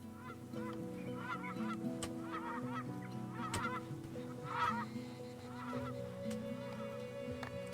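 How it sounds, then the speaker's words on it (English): Geese honk repeatedly in the village-building game Farthest Frontier, several calls in irregular bursts over a steady ambient music bed, moderately loud throughout. "Have some geese, look."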